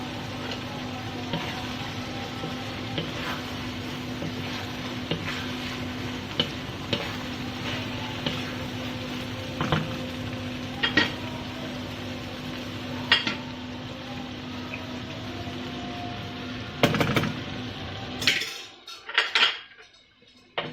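A spoon stirs boiled chana dal into ridge gourd in a pan, making repeated metallic clinks and scrapes over a soft steady sizzle. The sound is close and there is no speech, and it goes quiet near the end.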